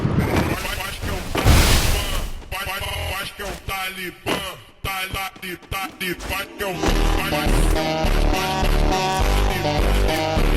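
Free Fire gameplay carries loud bursts of game gunfire and booming impacts mixed with music and effects, while someone talks over the action.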